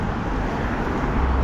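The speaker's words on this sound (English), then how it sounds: "I'm losing focus because of too much cars are passing" Road traffic rolls past outside as cars go by, a steady broadband roar of tyres and engines that swells slightly near the end, with no talking.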